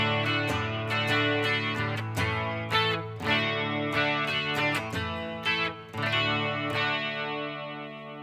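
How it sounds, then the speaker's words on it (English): A DIY kit electric guitar plays on its bridge pickup with a clean tone, ringing out strummed chords and picked notes that sustain and overlap, close and steady, with no voices. "let's go ahead and get into the clean tones here on the bridge."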